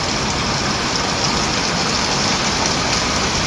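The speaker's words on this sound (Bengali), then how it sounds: "প্রচণ্ড বৃষ্টি হচ্ছে।" Heavy rain pours down steadily near ducks soaking in the downpour at Tetuljhora, a dense, continuous broadband roar that stays even and loud throughout with no talk over it.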